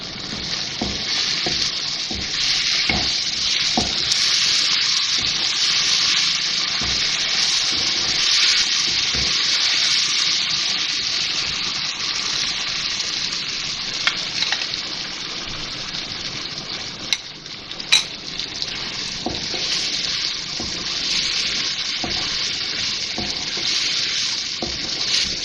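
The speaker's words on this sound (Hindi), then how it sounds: "थोड़ा थोड़ा दही डाल के फिर भून लूँगी" Minced meat keema sizzles loudly in oil as yogurt is added a little at a time and stirred in for keema biryani. The frying hiss is steady and dense throughout, with occasional spoon scrapes and clinks.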